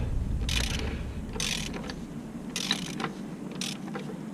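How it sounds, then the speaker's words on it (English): Extendable ratchet loosening a tight oil drain plug on a 2012-2017 Toyota Camry V6, four bursts of rapid pawl clicking spaced about a second apart, close and moderately loud over a low background rumble. "Really like this extendable ratchet for situations like this to give you some more"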